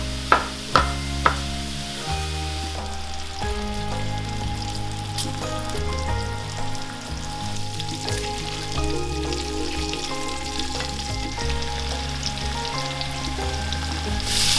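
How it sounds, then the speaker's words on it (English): A pound of sausage fries in a large skillet over medium-high heat, giving a steady close sizzle and crackle throughout, with a few sharp clinks near the start and music playing underneath. "it's time to add in our pound of sausage"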